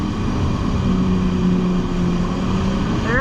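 A Yamaha Superjet stand-up jet ski engine drones steadily and loudly under throttle on water, a continuous buzzing hum with slight shifts in pitch throughout and no talking.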